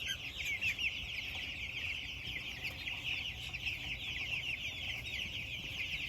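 A flock of young, half-grown chickens clucks and chatters steadily, close and continuous, with overlapping calls and no talking.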